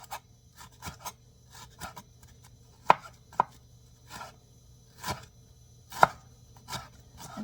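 Knife slicing banana blossom thinly on a board, a series of crisp, separate chops at an irregular pace, a couple of them sharper and louder, close by with nothing else going on.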